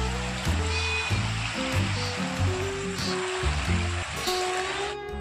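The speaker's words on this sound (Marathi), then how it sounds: "नाटेगाव येथे अतिवृष्टीमुळं पाणीच पाणी." Floodwater rushes in a steady, loud roar after heavy rain at Nategaon, while voices talk over it throughout.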